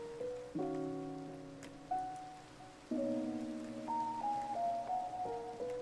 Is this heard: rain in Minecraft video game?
yes